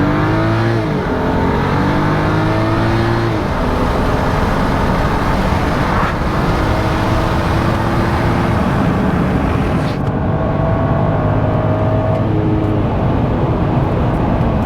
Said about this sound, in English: Car sounds good. Car shifts good.